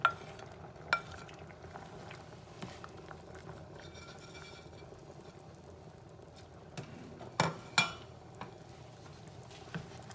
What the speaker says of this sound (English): so I'll go ahead and add the mushrooms